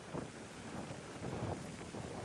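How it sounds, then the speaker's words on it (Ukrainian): Gusty wind buffets the microphone in uneven low rumbles, a steady blustery roar with no voices. "Але вітер, якщо чесно, дуже-дуже сьогодні сильний."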